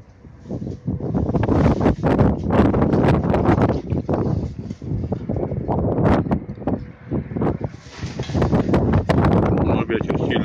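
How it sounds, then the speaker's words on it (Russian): Strong wind buffets the microphone on a frosty December winter morning at sunrise, a steady loud roar with gusty surges throughout, no voices over it. "Ну, ветер сильный."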